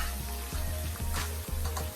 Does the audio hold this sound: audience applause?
no